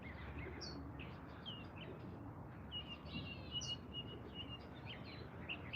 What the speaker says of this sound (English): As you guys can hear, there's ambient bird noise in every direction from me.